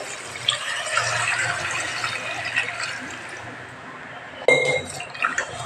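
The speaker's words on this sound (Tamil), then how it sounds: "இப்போ வந்து கொஞ்சமாக தண்ணி விட்டுட்டு" Water splashes and pours steadily into a cooking pot while making Sindhi biryani, with a brief clink of metal near the end.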